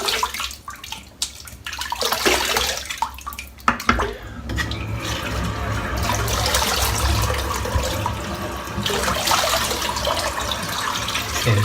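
Running water splashes as shaving lather is rinsed off a face after a wet shave, with a steady close stream, a few brief louder splashes early on and continuous flow throughout.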